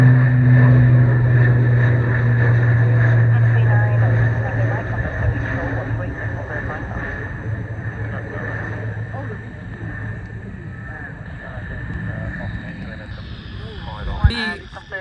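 An ATR turboprop airliner takes off with a loud, low droning engine roar that is strong at first and slowly fades, while people chat nearby.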